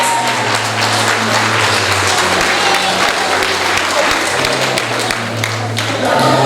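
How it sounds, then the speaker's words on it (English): Sustained standing ovation from a primary school graduation audience fills the whole stretch, dense and steady clapping with crowd noise underneath. "Can we just give them a standing ovation at this time and give them a standing round of applause?"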